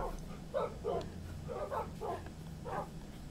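Tamed dogs in the Minecraft video game bark repeatedly in short, evenly spaced yips over a low game background, moderately quiet and fairly close.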